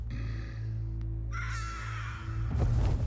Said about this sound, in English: Perfectly timed bird.